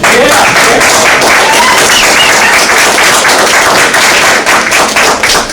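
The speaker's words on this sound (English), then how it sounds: "I just want to give him a round of applause" A crowd at a community healing circle applauds guest Luis J. Rodriguez. Dense, very loud clapping fills the whole five seconds, close and continuous, with scattered thuds and a few faint voices or whistles mixed in.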